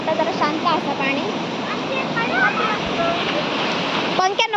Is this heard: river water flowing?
yes